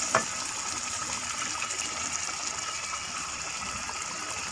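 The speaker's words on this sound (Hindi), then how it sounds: "थोड़ी देर फ्राई करने के बाद इसमें आप पानी डाल देंगे।" Water pours into a pan of frying turnip and radish curry with a steady, loud gushing hiss that carries on unbroken after a short splash at the start.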